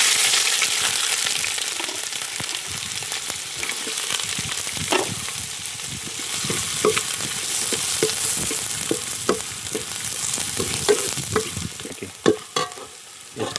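Chopped onions fry in about 100 g of hot oil in a pan for a mutton liver garlic fry, giving a loud steady sizzle. Irregular stirring scrapes and taps cut through it, and no one speaks.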